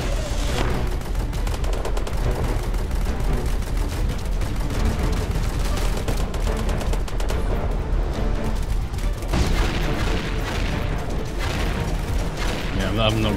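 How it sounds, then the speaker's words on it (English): Sustained gunfire and battle noise in the video game Angels Fall First, loud and continuous with dense bursts and booms throughout, under occasional talk. "Really getting shot up here."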